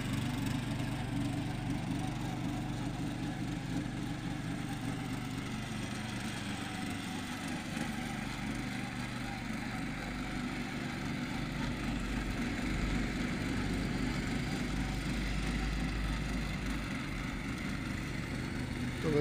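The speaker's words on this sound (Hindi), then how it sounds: "ये 7 HP का छोटा वाला ड्रिलर है, वो ड्रिलर से टेस्टिंग लेते हैं।" A small 7 HP power tiller engine runs steadily during a field test of a trailer, a continuous droning, chugging motor noise that stays loud and even throughout, with no talking.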